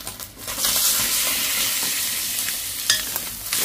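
Fish frying in a pan with curry leaves, a close, steady sizzling crackle with occasional stirring scrapes and spatters, loud and continuous with no talk.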